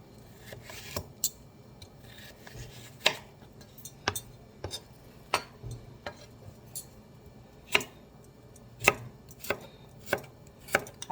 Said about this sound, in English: I like to dice these up as small as possible so they can cook faster.